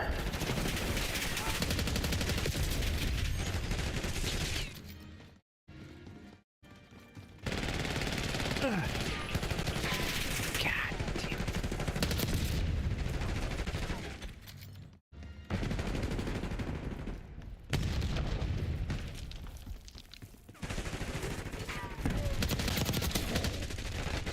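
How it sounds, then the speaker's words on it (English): Sustained assault rifle fire in the shooter game Black Ops 6, long rattling automatic bursts broken by a few short silent gaps, loud and dense throughout. "I'm going to bring out my assault rifle now"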